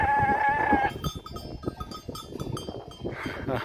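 Sheep bleating close by on a hiking trail in the Swiss countryside between Flühli and Sörenberg, a tonal cry at the start followed by busy shuffling and rustling movement nearby.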